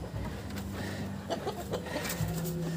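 Startled farm chickens in a coop clucking and squawking in scattered bursts, moderately near over a faint background hum.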